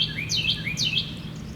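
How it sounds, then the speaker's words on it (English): A bird sings loudly outdoors in spring, two clear bright whistled phrases repeating close by and alone over a faint low hum. "That bird is very loud, yes."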